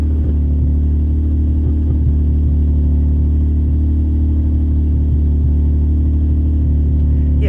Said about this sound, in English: It's rattly on the inside because of that exhaust leak that is still there.